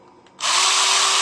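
After a brief quiet moment, a cordless Black & Decker LBXR12 drill with a newly replaced motor spins up loudly and runs at a steady, close, whirring pitch.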